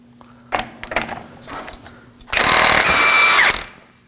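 A power tool drives a 36mm socket to break loose the front CV axle jam nut on a 2014-2020 Acura MDX 3.5L V6: short bursts of clatter, then a loud sustained whirring buzz lasting about a second, up close.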